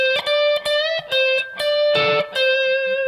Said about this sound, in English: Just alternate picking. Down, up, down,